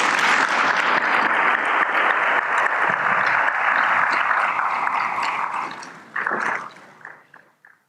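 Audience applause at the Ghana CEO Summit 2019 award ceremony, as a Hall of Fame honoree takes his seat: steady dense clapping filling the hall for about six seconds, then fading out in a few scattered bursts.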